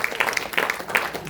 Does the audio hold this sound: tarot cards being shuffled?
no